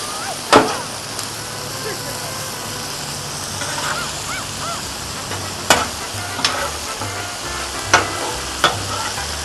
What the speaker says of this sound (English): This steak is cooking fast.